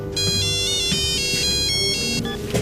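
A telephone rings with a bright electronic ringtone, repeating tonal bursts in a steady pattern, close and clear, with faint household background underneath.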